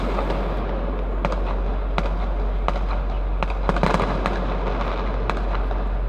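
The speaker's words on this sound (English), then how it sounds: "Oh, I just heard some fireworks over there." Fireworks burst low and nearby at night in Los Angeles, a string of sharp cracks and pops at an irregular pace over constant road rumble.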